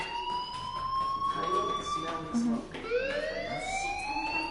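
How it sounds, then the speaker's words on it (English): A fire alarm siren wails in rising and falling electronic sweeps at moderate volume, repeating across the moment with faint background noise. "Hey, do you hear that fire alarm?"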